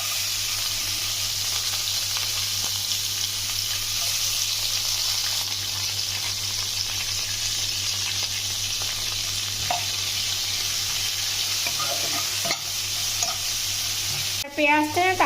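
Onion fries in a pan with cardamom and cinnamon sticks, giving a steady, close sizzle with a constant hiss, broken near the end by a few scraping stirs.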